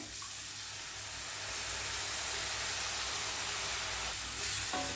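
Steady watery rush of tamarind water pouring into a pan, broadband and continuous, with a faint sizzle and a slight swell near the end.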